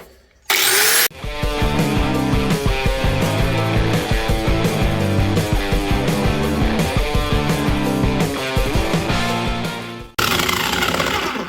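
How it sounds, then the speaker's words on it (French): An angle grinder fitted with a deburring disc grinds while a homemade bat is being shaped, a loud close whine with a rough chattering edge that runs continuously for about nine seconds after a brief burst at the start. "Donc, la meuleuse avec un disque à ébavurer."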